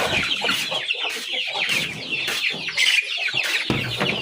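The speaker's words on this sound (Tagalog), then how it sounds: "Pakain tayo guys ng manok." A flock of chickens clucks and chatters busily all at once at feeding time, a dense, continuous cluster of calls close by.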